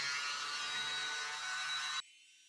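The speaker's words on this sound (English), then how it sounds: "I'm going to come in with my little blower now and blow the edges out a little bit." A small blower used on the edges of a yellow-based acrylic paint pour runs as a steady, close high-pitched whir for two seconds, then cuts off abruptly.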